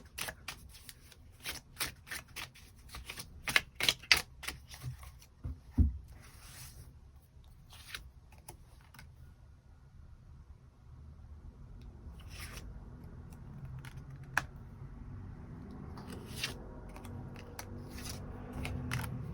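Tarot cards are shuffled and laid out by hand, close crisp flicks and riffles in quick clusters during the first half. Softer rustles follow, and a faint steady hum rises toward the end.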